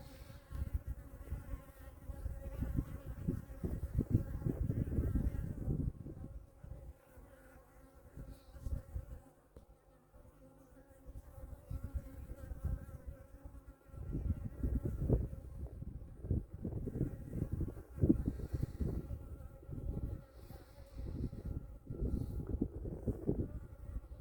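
A dense, low hum of many honeybees buzzing around a skep hive fills the scene, swelling and fading in waves, close by with no talking.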